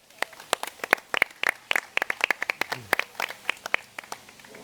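Scattered, uneven hand clapping from an audience at a design and architecture colloquium, individual claps distinct and spaced rather than a dense roar, fading toward a brief sparse finish.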